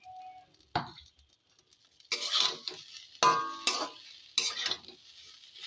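A spatula stirs fried bottle gourd peel in a pan, making four or five sharp scraping, clattering strokes separated by short quiet gaps, near and fairly loud.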